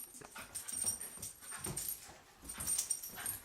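A dog whimpers and whines in soft, broken bursts during a fight with a cat, faint and close with scuffling noise between the cries.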